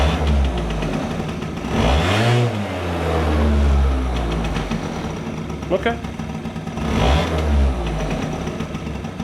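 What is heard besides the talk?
scooter engine revving up then idling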